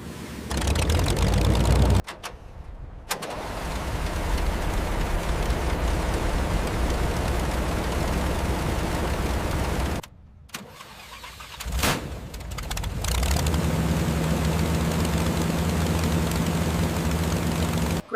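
Restored American wartime aircraft engine starting: an abrupt mechanical burst cuts out, then a steady, loud engine roar builds and holds, broken by brief gaps before settling into a sustained run.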